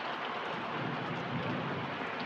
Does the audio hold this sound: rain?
yes